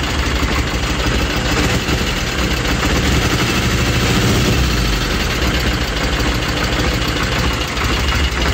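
An old motorcycle, revived after years standing, idles loudly and steadily up close after a restart, its engine chugging with an even knocking pulse and no talk over it.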